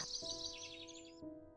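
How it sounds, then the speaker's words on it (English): A bird chirps in a quick, fluttering trill, fairly faint over a low background drone that carries on after the call stops. "Birds were chirping."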